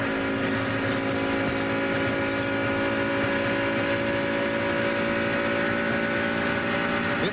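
A damaged NASCAR race car engine running badly during the 2001 Pepsi 400 at Michigan, a loud, steady, droning roar that continues without a break, with no talk over it.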